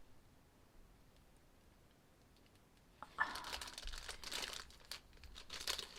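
Rolled-up paper art supplies crinkle and rustle as they are handled close by, quiet at first, then a burst of dry crackling and crumpling in the second half.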